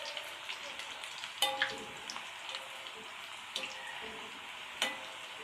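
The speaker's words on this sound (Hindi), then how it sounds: "सुर्खी माइल गोल्डन ब्राउन होने तक हम इन्हें फ्राई करेंगे।" Namak paray dough pieces deep-fry in oil with a faint, steady bubbling hiss, punctuated by a few sharp clinks of a spoon against the pan.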